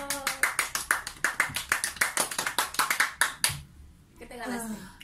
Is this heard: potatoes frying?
no